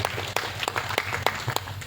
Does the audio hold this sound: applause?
yes